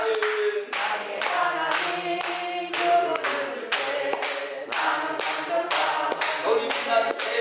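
A church congregation claps in steady rhythmic unison during a worship song, sharp evenly spaced claps about twice a second over a sung melody.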